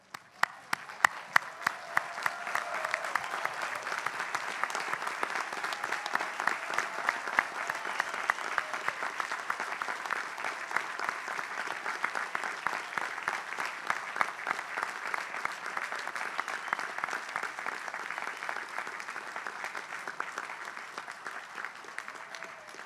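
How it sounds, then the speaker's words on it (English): A large commencement crowd stands and claps for graduates at a Tufts ceremony, a dense, steady wash of applause that holds for over twenty seconds with no voices over it. "Let me invite everyone to stand and give these remarkable individuals a round of"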